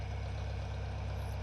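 Tractor engine idling nearby on a farm, a steady low rumbling drone with a regular pulse, unchanging and moderately quiet with no talking.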